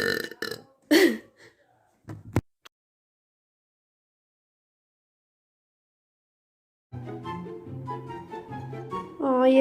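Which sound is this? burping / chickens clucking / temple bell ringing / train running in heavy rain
burping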